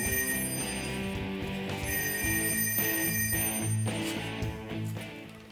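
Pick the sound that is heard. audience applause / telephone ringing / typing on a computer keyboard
telephone ringing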